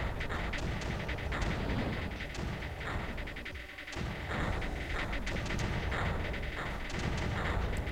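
Mortars firing in the Creeper World video game, a series of muffled thuds every second or so over a dense, continuous wash of game noise.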